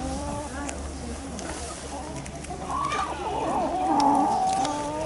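Chickens cluck on a school farm at a vocational high school, a close, busy mix of clucks and squawks that grows louder toward the end over a low background hum.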